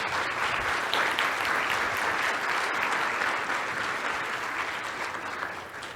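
Audience applause welcoming a speaker to the podium at an academic talk, a steady, dense clapping that fills the room for several seconds and stays even before tapering slightly at the end.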